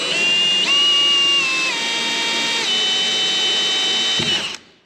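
A power drill with a small bit whines steadily as it bores into the rail of a RAM pickup truck bed during a toolbox install, its pitch dipping slightly under load before stopping abruptly near the end.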